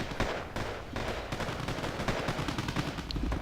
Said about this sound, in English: A lot of artillery is being dropped down.